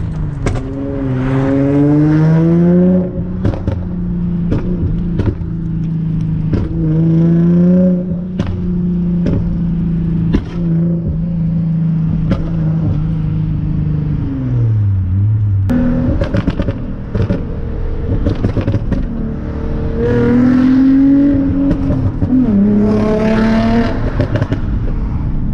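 A tuned Infiniti G35 coupe revving hard from inside the cabin, its loud engine climbing and falling through several pulls with sharp exhaust pops and crackles between revs.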